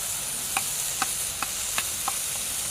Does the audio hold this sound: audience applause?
no